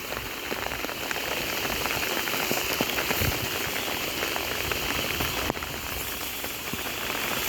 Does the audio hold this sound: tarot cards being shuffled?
no